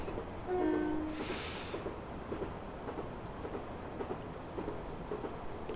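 A BR Class 153 diesel railcar runs on the Wherry Lines in Train Simulator 2018. There is a steady low rumble of the train in motion, with a brief horn-like tone and a loud whoosh near the start, then a rhythmic clatter that keeps going.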